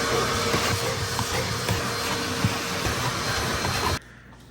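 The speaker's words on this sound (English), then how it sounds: "Just because I'm gonna vacuum." A household vacuum cleaner runs with a steady broadband roar at moderate level, close by, then cuts off abruptly near the end, leaving only quiet room tone.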